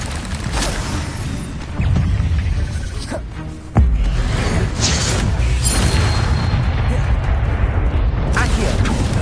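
Incendio fire spells cast in the Hogwarts Legacy video game: loud booming blasts with a sharp onset near four seconds over a continuous roar of combat noise, with voices mixed in.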